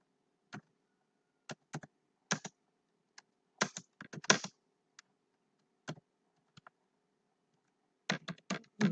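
Java code is typed on a computer keyboard in scattered, quiet bursts of keystrokes with pauses between, close up and with no talking.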